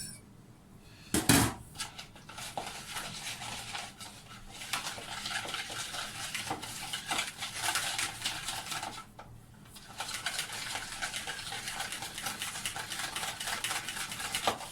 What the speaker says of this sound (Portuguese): Vamos pôr as nossas gemas. Vamos mexer tudo muito bem.